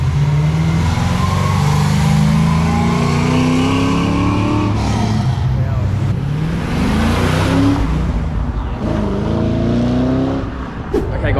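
A car engine revs hard and climbs through the rev range at a car meet, loud and close, then winds down with crowd noise around it.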